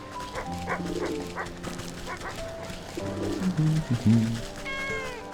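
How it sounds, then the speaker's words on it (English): A cat meows several times in a row, the drawn-out tonal calls rising and falling close by, mixed with yelping animal sounds. Nobody speaks. "And then another cat."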